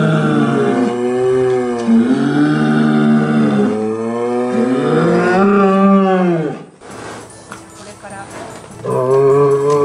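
An Okinawan fighting bull at its practice ground lets out long, loud, drawn-out moos, one after another, with a brief noisy pause before another bellow begins.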